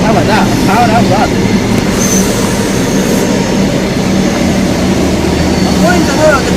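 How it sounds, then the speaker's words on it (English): Non-stopping train passing through platform 4 at Ipswich station on the Great Eastern Main Line, a loud, steady rumbling roar throughout with voices talking over it. "the train now approaching platform 4 doesn't stop"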